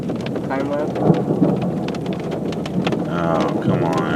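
Steady heavy rain drums on a vehicle during a Nebraska thunderstorm, with thunder rumbling in and a few louder bursts of rain on the surface, close and continuous throughout.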